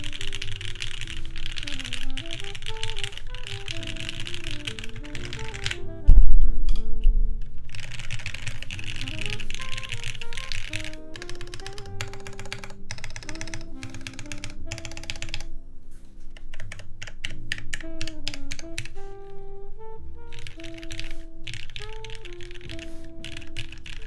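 Typing on a Linworks x TGR Dolice prototype mechanical keyboard, a steady run of close clicky keystrokes that continues under background music, with a brief louder knock partway through.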